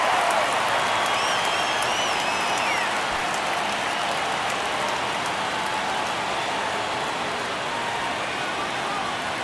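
Steady crowd roar from stadium fans in MLB The Show 23 during a Cubs versus Cardinals postseason baseball game, a dense continuous wash of cheering and noise that holds loud throughout.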